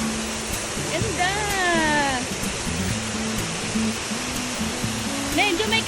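Rushing water at Pagapiden Falls, a small outdoor waterfall, gives a steady broad roar throughout, with bird calls and people talking over it.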